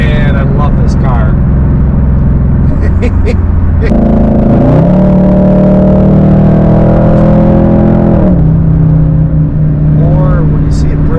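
A Datsun roadster drives along the road, its engine humming steadily, then revving up with a rising pitch midway before settling back to a lower cruising drone, loud and close throughout.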